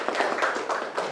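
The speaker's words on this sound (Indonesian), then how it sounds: "Tepuk tangan buat temannya" Students in an Indonesian classroom clap together for a classmate, producing a short patter of hand claps with several distinct accented beats, close and moderately loud.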